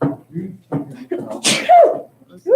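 A person sneezes once, loud and abrupt and close by, set among bits of speech before and after.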